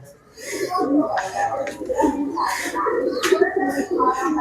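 Racing pigeons in a loft giving soft repeated coos close by, mixed with speech-like voices talking over them for most of the stretch.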